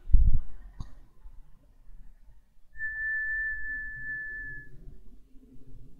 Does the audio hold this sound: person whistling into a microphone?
yes